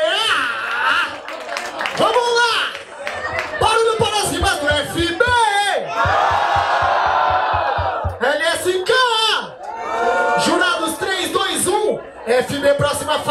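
A crowd cheers and whoops at a Brazilian hip hop rap battle during the BDA Hip Hop Tour 2019 stage in Caraguatatuba. One loud burst of noise rises between stretches of an energetic host shouting into the mic.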